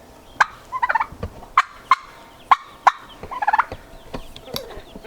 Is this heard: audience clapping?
no